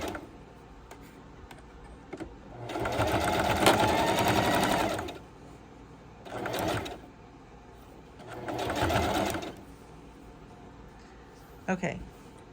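A sewing machine stitches a homemade dryer mat in several loud bursts of rapid mechanical whirring, separated by quieter pauses while the fabric is repositioned.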